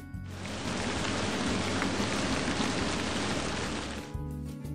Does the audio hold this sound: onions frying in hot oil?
no